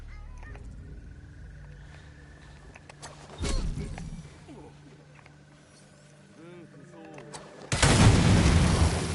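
Explosions in the video game Assassin's Creed Shadows: a sharp blast midway and a louder, longer roaring burst near the end, over quiet ambient game sounds.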